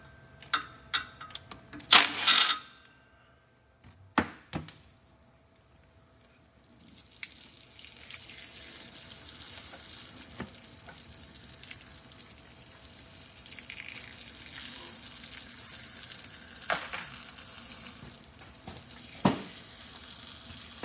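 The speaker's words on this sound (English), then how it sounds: "We're trying to do a nice controlled drain of the transmission." Ford 10R80 ten-speed transmission fluid pouring steadily into a drain pan, a continuous liquid splash that runs alone for most of the stretch after a few brief knocks and clicks at the start.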